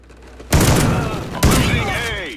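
Two loud, close shotgun blasts ring out in a video game, the second about a second after the first, each decaying with a ringing tail while an excited voice shouts over the action.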